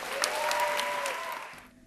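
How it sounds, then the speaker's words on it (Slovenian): An audience claps together in a dense, continuous burst of applause, loud at first and fading out near the end, with no voices over it. "gremo en aplavz, tudi zame bo zdaj to nekaj novega, en aplavz za Andreja Težaka"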